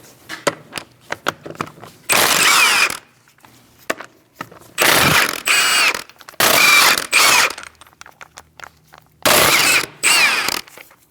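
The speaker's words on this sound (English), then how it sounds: "Using a 17mm socket, we're going to remove our wheel." Impact-style ratcheting bursts from a 17mm socket taking off the front wheel of a 2000-2006 Mini Cooper, with four loud sustained rattling runs separated by short clicks and pauses, close up and without talk.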